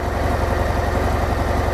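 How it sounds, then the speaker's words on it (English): A Harley-Davidson Sport Glide Softail motorcycle engine idles while warming up, a steady, loud low-pitched throb with an even pulsing rhythm throughout, with no voices. "as it's heating up, the engine idle is starting to come down"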